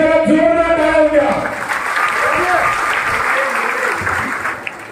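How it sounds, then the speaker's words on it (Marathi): Crowd applause for a party worker at a Republican Party of India rally, with a voice talking over the opening second before dense clapping swells and carries on steadily, tapering slightly at the end. "तर या जाधव कामासाठी त्याला जोरदार टाळ्या द्या।"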